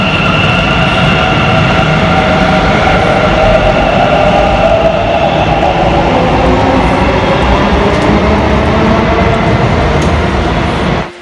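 A metro train rumbles steadily with a continuous motor whine as it nears a stop, loud and close, as if heard from inside a moving carriage.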